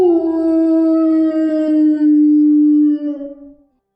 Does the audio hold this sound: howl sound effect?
yes